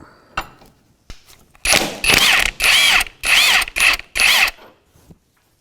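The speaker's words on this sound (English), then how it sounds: "22mm wrench and a 13mm on the actual tie rod itself, and just work that out" Wrenches, a 22 mm and a 13 mm, work an inner tie rod loose on a 2007-2013 Mitsubishi Outlander, giving a few light clicks and then six loud, rapid ratcheting bursts separated by short pauses, close up.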